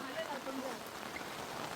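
Heavy monsoon rain falls steadily near a river, a dense continuous hiss of drops on surfaces with faint background voices underneath.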